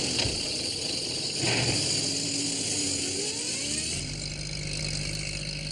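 Postman Pat's van speeds along with its engine revving loudly and steadily, the pitch rising and shifting as it accelerates, with a constant drone filling the whole stretch.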